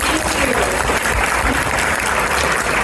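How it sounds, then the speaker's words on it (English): A dense, steady wash of crowd applause, many hands clapping continuously at an even loudness from start to finish. "A big round of applause, everyone."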